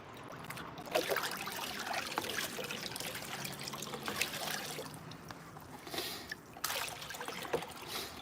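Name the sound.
dirty water trickling through a sluice box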